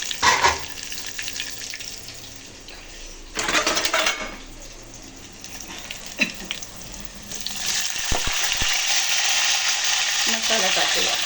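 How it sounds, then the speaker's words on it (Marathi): Garlic, ginger and curry leaves crackle and sizzle in hot oil for a Marathi-style tempering, with bursts of spitting and the clink of a pan and utensil stirring, rising to a steady loud sizzle toward the end. "फोडणी कढली."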